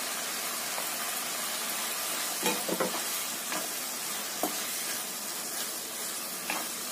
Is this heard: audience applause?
no